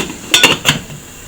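A lid goes onto a cooking pot of tripe, three quick metallic clinks close by, the last one a beat after the first two, then quiet.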